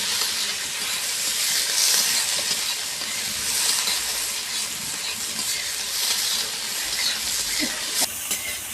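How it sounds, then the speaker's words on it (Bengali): Chopped onions fry with cumin and dried chillies in a pan, giving a steady, even sizzling hiss. The sound holds close and constant throughout, with only small crackles rising from it. "পেঁয়াজ কুচিগুলোকে দিয়ে দেবো পেঁয়াজগুলোকে লাল করে ভেজে নেব"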